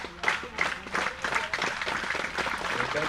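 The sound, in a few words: spectators clapping at a pole-vaulting event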